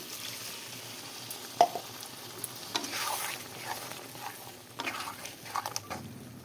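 A pan of pointed gourd masala sizzles on the stove as water is added, with a steady frying hiss and occasional scrapes and soft pattering bursts, close up and without talk.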